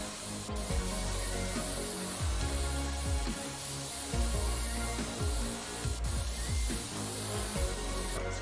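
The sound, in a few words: compressed air spraying dust in PC Building Simulator video game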